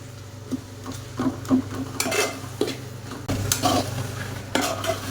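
A spoon stirring sardine fish curry in a pan, with soft scraping and clinking strokes at an uneven rhythm over a steady low background hum, close and moderately loud.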